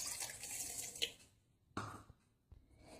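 Water runs steadily from a tap with a bright splashing hiss, then stops, followed by a couple of soft knocks and brief splashes. One cup of water poured into cornstarch for a recipe.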